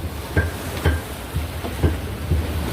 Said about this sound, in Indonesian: Itu suara warung sebelah numbuk bumbu.